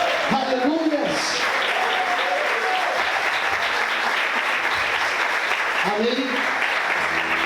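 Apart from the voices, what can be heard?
congregation applauding in church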